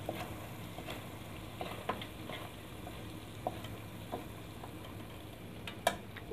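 Egg keema mince is pushed to the side of a sizzling pan, a steady frying hiss with soft scraping and occasional light taps of the utensil against the pan.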